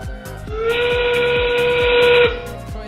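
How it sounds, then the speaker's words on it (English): A sustained endgame whistle at a robotics competition blows steadily for about two seconds over loud, rhythmic thumping music in an arena. "The endgame whistle sounds."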